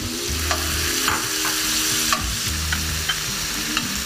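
Rock lobster sautéing in a pan with reducing brandy, a steady close sizzle broken by repeated scraping stir sounds, with no voices.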